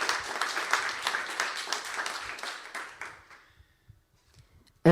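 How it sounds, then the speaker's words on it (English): A lecture audience gives a warm round of dense, close applause that thins out and dies away over a few seconds, ending in near silence before a sudden loud noise at the very end. "please give a round of applause for our"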